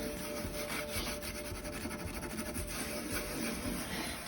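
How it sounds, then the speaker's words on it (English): An oven interior is scrubbed with a Norwex cloth and oven cleaner, a continuous close rough rubbing and scraping with a rapid back-and-forth texture. "I'm just gonna kind of wipe it up because I know I'm gonna have some scrubbing."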